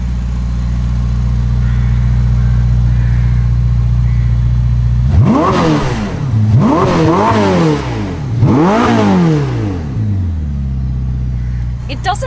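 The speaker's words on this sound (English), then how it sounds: "So what does the most powerful Ferrari sound like?" A Ferrari SF90 plug-in hybrid with a 4-liter twin-turbo V8 idles with a steady low drone, then revs sharply three times in quick succession, each climb and fall loud and close, before settling back to idle.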